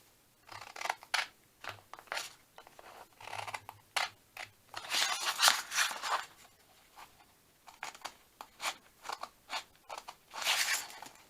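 Big scissors cut paper in a string of crisp snipping bursts, uneven in rhythm, close and fairly quiet, with no talking.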